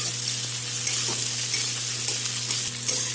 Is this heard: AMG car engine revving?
no